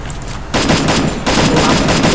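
Rapid automatic gunfire from the mobile battle-royale game Free Fire, loud and close, with a sustained burst of repeated shots, a brief pause, then another continuous volley.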